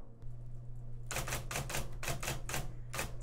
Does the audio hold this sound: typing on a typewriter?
yes